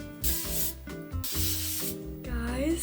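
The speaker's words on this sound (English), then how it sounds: "Hairspray." Hairspray hisses from an aerosol can onto freshly curled hair in a steady, close spray burst, with a low hum and musical background underneath.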